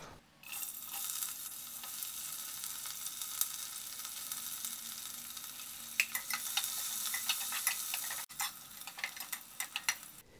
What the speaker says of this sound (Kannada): ಈರುಳ್ಳಿ ಗೋಲ್ಡನ್ ಬ್ರೌನ್ ಆಗೋಂಟ ಫ್ರೈ ಮಾಡಬೇಕು.